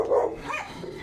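A dog barks once or twice at close range, a short sharp burst that quickly fades, with no other sound around it.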